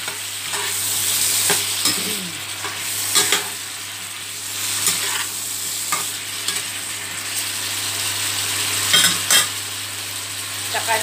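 Squid with black beans and green pepper frying in a pan while being stirred, a steady close sizzle broken by repeated scraping stirs every second or two, loud and without talking.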